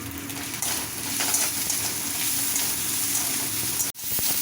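Oil with a pinch of turmeric sizzles in a kadai as a loud, steady, close hiss that briefly cuts out near the end.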